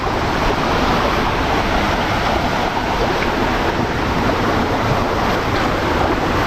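Waterfall at Hidden Falls in Tirunelveli, a loud, steady roar of rushing water that fills the whole stretch close up and never lets up.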